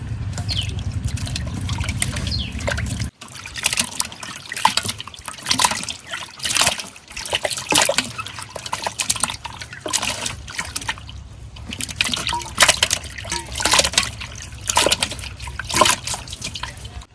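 Raw chicken meat being washed under running water, with steady trickling and splashing of liquid as the pieces are handled, continuous and close throughout apart from a brief pause near the start.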